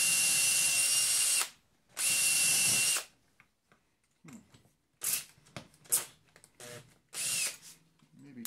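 A power drill drives screws into wood during a bent lamination woodworking project: two loud, sustained whirring bursts, each about a second long, then quieter clicks, taps and handling noises.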